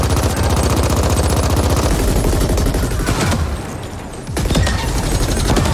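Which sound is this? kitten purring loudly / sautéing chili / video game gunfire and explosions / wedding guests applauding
video game gunfire and explosions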